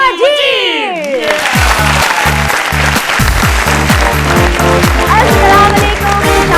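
Loud applause fills the space, with a sweeping musical sting at the start and a rhythmic beat playing underneath the clapping.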